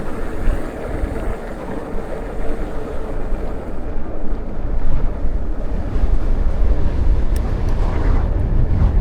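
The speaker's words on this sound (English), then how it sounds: "Head on wind here, head on breeze, head on wind, whatever you want to call it." Head-on wind buffets the microphone on a boat out on the water, a loud continuous low rumble and roar with water noise beneath, steady throughout with no voices.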